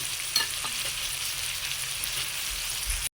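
Kangkong (water spinach) sautéing in a pan with a steady, close hiss of frying and a few faint stirring knocks, no voices.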